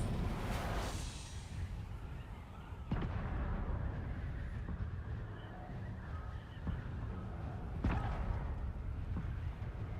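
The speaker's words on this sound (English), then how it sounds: "we got a cannon shooting over here" Cannon fire in the video game Dune Awakening during a CHOAM salvage rights event: a few muffled, fairly distant booms over a constant low rumble of game ambience.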